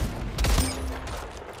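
A sniper rifle shot in a video game, a single sharp report with a brief tail, heard up close.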